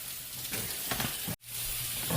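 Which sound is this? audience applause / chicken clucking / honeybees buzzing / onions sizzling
onions sizzling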